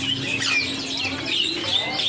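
Young Bali starlings at a bird market kiosk give short, shrill whistled calls and chirps repeated throughout, close by amid busy market background noise.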